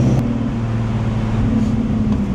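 A big-turbo Nissan G35 holds a steady, loud engine drone with a low hum throughout, close-miked from inside the car and with no one talking.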